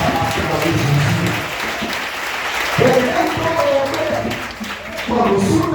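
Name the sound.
congregation applauding and acclaiming Jesus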